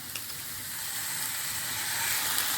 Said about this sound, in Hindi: हल्का सा इसको हम सौते करेंगे।